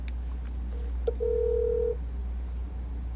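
A phone call's ringback tone sounds once as a steady electronic beep lasting under a second, quiet over a low background hum, with a brief shorter tone just before it.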